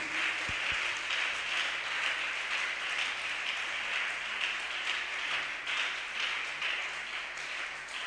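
A church congregation applauds Jesus in sustained, even clapping that carries on for several seconds at moderate loudness, with a low hum underneath.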